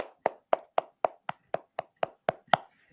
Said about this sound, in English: let's give a round of applause to our Serie A champion